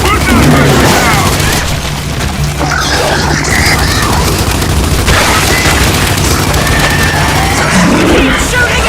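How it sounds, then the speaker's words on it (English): Gunfire in the video game Gears 5: Hivebusters, dense and loud with booming blasts and rapid shots running continuously throughout, while voices shout over the battle. "Keep shooting it!"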